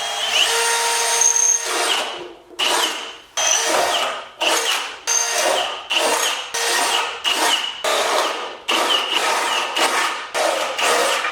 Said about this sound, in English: I'm going to drill some holes here so we can actually cut out the inside